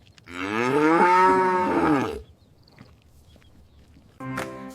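One loud, close cow moo lasting about two seconds, followed by a quiet pause and the start of another sound at the end.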